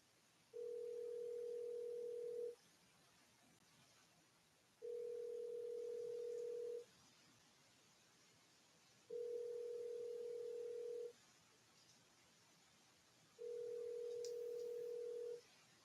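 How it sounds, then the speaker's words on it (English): Telephone ringback heard while calling someone: a steady two-second tone repeats four times with long silent gaps between, faint and alone. "as soon as I call somebody on this phone"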